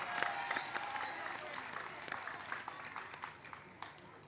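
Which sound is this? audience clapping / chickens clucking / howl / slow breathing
audience clapping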